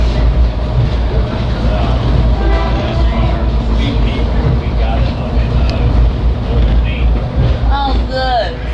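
Berkshire Scenic Railroad Hoosic Valley service train rolling along the rails near North Adams, Massachusetts: a heavy, continuous rumble with wheel clatter and a squeal near the end, and muffled voices from the riders mixed in.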